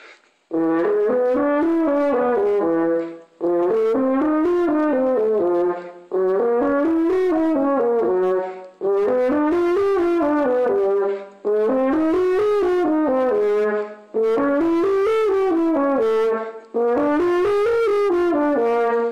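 A solo horn plays a harmonic series warm-up of seven repeated phrases, each climbing up and back down through a series of notes, warm and sustained with short breaths between.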